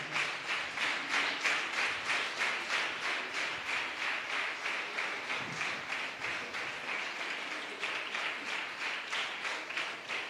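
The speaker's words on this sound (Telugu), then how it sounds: "గట్టిగా అందరూ చప్పట్లు కొట్టి మన తండ్రి గారికి ఆహ్వానాన్ని పలుకుదాం." Steady rhythmic clapping from an audience greeting a bishop at a church student meeting, continuous and moderately loud for the whole stretch, with a faintly pulsing beat.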